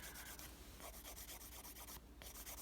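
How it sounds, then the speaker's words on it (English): An electric nail file grinds steadily against PolyGel nail product, a continuous close whirring rasp with a brief dip in tone, and no talking. "the product is filing off very nicely and easily"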